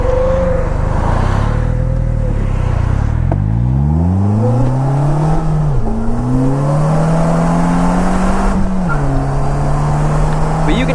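A Polaris Slingshot driven hard through corners, its engine revving up and down and shifting pitch as it accelerates out of each bend, loud and close throughout.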